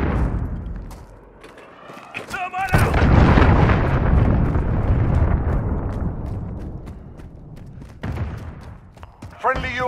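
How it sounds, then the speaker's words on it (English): A cruise missile strike in the video game Call of Duty: Modern Warfare lands as a loud, rumbling explosion that rolls on for several seconds. A voice speaks over it, and sharp bursts and clicks come before and after. "Allied cruise missile away."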